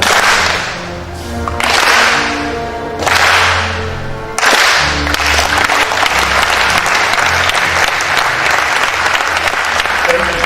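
A conference audience at a college of medicine closing ceremony claps on cue, bursts of loud applause starting and stopping sharply in several bouts before settling into sustained clapping, with faint voices beneath.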